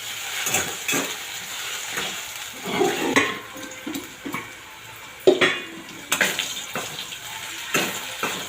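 Potatoes stirred and fried over high heat in a pan for batata poha, with repeated scraping and clinking of a spatula against the pan over a steady sizzle, close and fairly loud, no talk.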